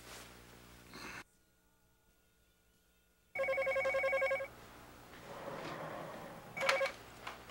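An office telephone at an architectural design firm rings in one loud electronic burst after a stretch of silence. A further short ring follows later over low background murmur.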